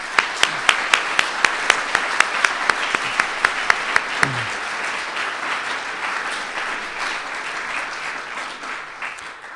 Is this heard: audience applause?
yes